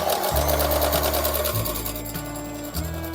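A sewing machine stitches a straight line on an embroidery sampler, its motor whirring loudly in a steady rhythm with brief pauses and speed changes, close by and with no talking.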